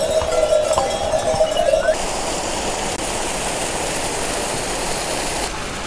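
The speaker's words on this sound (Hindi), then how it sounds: "देखो फिर से एक नज़ारा, बढ़िया सा ऊंचा वाटरफॉल एकदम पास में।" A tall waterfall close by on the Kedarnath trek in the Himalayas gives a constant, dense rushing roar. A voice-like tonal sound is heard briefly at the start, then the falling water continues alone.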